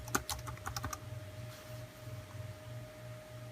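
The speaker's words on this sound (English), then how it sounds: "if I hit the Windows key and type Advanced" A burst of quick keystrokes on a computer keyboard near a Supermicro SuperServer being set up, close and crisp for about a second before easing into the faint hum of running equipment.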